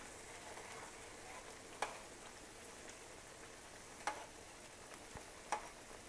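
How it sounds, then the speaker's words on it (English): Amatriciana sauce simmering in a pan over lowered heat, a steady soft bubbling hiss with a few sharp pops and clicks standing out, close and continuous with no voices. "Just turn this down a little bit now. And just let that simmer away."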